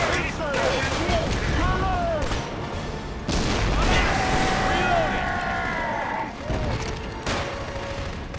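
A grenade blows up in Killzone 2 during a heavy firefight, with a loud boom standing out from surrounding gunfire, whizzing projectiles and battle clatter, while a voice talks over the action.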